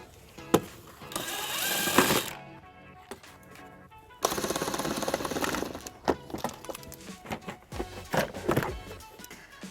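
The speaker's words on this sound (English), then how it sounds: "we're going to use a 14mm socket to remove the plastic nuts" A 14mm socket wrench works plastic nuts loose on a 2015 Kia Sorento, with bursts of quick ratcheting clicks separated by short pauses and a few sharp knocks, close up.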